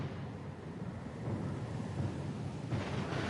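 A thunderstorm at sea in the video game Pillars of Eternity II: Deadfire brings a faint, continuous rumble of thunder with a hiss of rain and wind that swells slightly toward the end. No voices are present.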